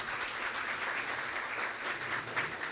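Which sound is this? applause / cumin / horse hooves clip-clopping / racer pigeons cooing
applause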